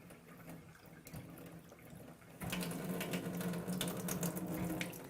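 Water runs from the hose of an electric alkaline water machine into a cup, a quieter trickle at first that grows into a steadier, fuller stream about halfway through.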